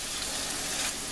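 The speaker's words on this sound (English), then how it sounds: "I'm going to turn up the heat to an 8 because I want this to like fry on a high heat" Onions frying in a pan over high heat give a steady, dense sizzle that stays loud and even throughout, with no talk over it.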